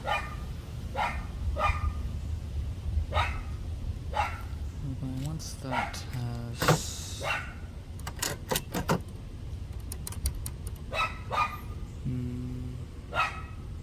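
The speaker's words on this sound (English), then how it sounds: "the neighbor's dogs are also outside." Dogs bark repeatedly from a short distance, with scattered clicks and clatter nearby and a voice speaking briefly between the barks.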